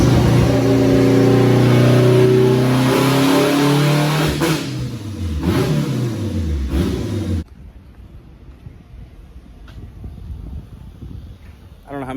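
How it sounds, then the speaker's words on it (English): All-wheel-drive Honda Del Sol strapped to a dyno, its engine revving loud and hard with rising and falling pitch for about seven seconds, then cutting off to a faint low idle-like rumble. "Alright, so we got the car strapped down to the dyno."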